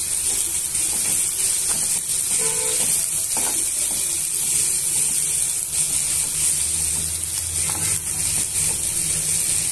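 Onions and green chillies frying with turmeric in a pan, giving a steady, close sizzle and hiss that runs continuously with faint stirring sounds and no talk.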